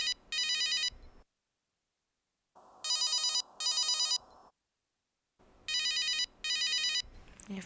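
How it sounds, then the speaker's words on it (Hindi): A telephone rings unanswered in repeated paired bursts with silent gaps between them, moderately loud and close, with no voices over it. "कब से फोन बज रहा है"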